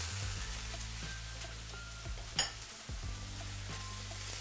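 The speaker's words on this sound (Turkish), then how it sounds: "Şimdi soğanımı pişmeye bırakıyorum" Spring onions frying in a pan, a soft, steady sizzle with faint crackles and a brief clink partway through, quiet and close with no talking.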